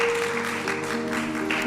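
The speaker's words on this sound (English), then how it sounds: "Let's give them one more round of applause for that wonderful item." Applause at a school graduation ceremony: a soft wash of clapping in a hall, partly masked by a sustained tone from music or the sound system running underneath.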